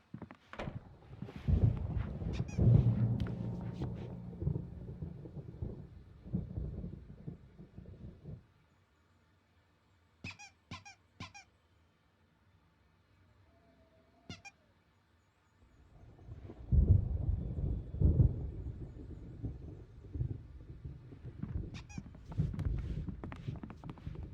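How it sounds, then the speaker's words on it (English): Deep rolling thunder of an approaching storm in the video game Alan Wake Remastered rumbles loudly at the start and again near the end, with a hushed stretch between broken by faint clicks. "There's a storm coming."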